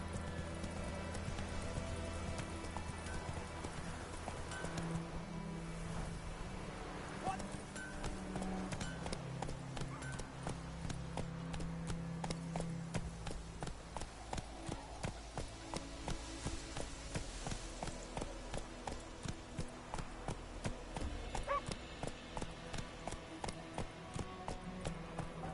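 Hooves of Roach, the horse in The Witcher III video game, galloping in a quick even clip-clop rhythm, faint and mixed under game music and ambience, with brief snatches of a rider's voice.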